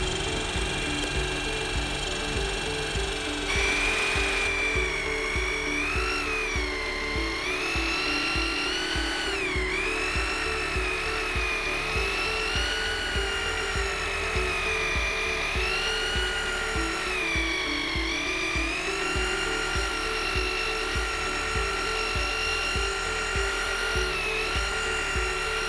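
A low-speed mechanical mixer stirs Sikalastic-1 KMY fiber-reinforced waterproofing into water, a steady close motor whine with a wavering pitch that runs continuously throughout with no talk.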